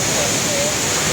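Ditumabo Mother Falls, a waterfall in San Luis, Aurora, pours with a steady, dense rushing roar that stays close and continuous without a break.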